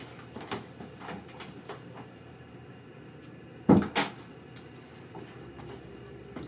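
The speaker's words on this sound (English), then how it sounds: "close this door over there" An indoor door is pushed shut partway through, giving two quick, fairly close knocks, the second a softer rebound, over a faint hissing room tone with no talking.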